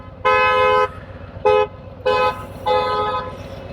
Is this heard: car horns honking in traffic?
yes